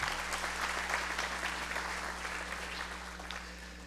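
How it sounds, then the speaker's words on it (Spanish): A fairly quiet audience at a panel discussion on public-service training gives a round of applause for a panelist, a soft, steady patter of clapping that slowly fades, over a low electrical hum. "Un aplauso"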